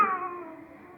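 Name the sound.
cat screeching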